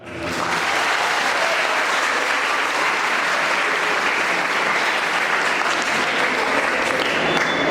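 A school audience at a kids' fest in Alappuzha bursts into dense, sustained applause, loud and steady throughout with no pause, many hands clapping together.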